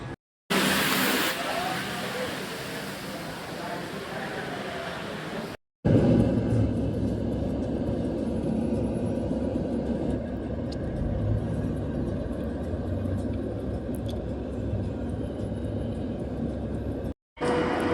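Road traffic in Dubai heard from inside a moving vehicle, a steady low rumble of engines and tires with no horns, continuous and fairly loud, with people talking over it and brief cuts.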